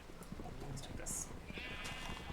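A Minecraft sheep gives a short bleat amid game noise while someone talks over it.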